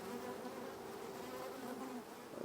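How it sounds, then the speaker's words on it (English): Honeybees buzz steadily around an opened nuc hive frame holding a virgin queen, a dense close drone that stays even for the whole stretch with no voices. "see how the bees are following her around? That's a queen, all right."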